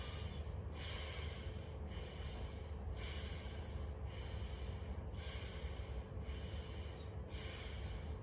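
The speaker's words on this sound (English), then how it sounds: "you inhale through the nose and you exhale through the nose, but a bit slowly, but the force of in exhalation is a little high" Forceful breathing in and out through the nose, repeated in a steady cycle of roughly seven or eight strong breaths, loud and close with a hissing airy rush and no talk.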